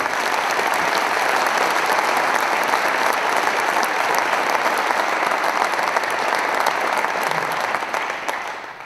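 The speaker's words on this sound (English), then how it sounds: "Big round of applause, warm welcome." Loud, sustained applause from a crowd at a Jaguar TCS Racing Formula E season launch event, a thick, continuous clapping that fills the room and tapers off in the final second.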